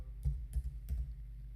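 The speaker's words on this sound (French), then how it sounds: "je saisis dans le champ CAPTCHA les petites lettres en bleu un peu tordues" Three quiet, close keystrokes tap out on a computer keyboard as letters are typed into a CAPTCHA field, spaced about a third of a second apart, with no talk.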